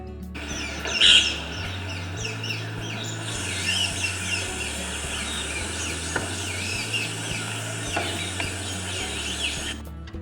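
Birds chirping and tweeting in short repeated calls over a steady background hiss, moderately close, with no talk.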